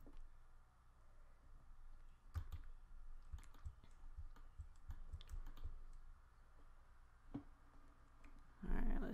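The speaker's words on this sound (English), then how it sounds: "I'll click and press enter." A computer mouse and keyboard are used during Inkscape design work, giving faint, sparse clicks and key taps spread irregularly across a quiet background, with a soft rustle at the end.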